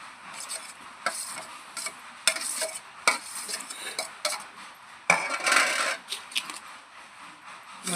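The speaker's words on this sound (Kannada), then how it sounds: "ಈಗ ಎಲ್ಲ ರೆಡಿ ಮಾಡಿ ಇಟ್ಕೊಂಡು ಕೋಸಂಬರಿ ಕಲ್ಸೋಣ ನೋಡ್ರಿ." Sprouted gram kosambari salad with cucumber, coriander, tomato and onion being stirred together in a bowl, producing irregular soft scraping and rustling strokes, quiet and close, with no talking.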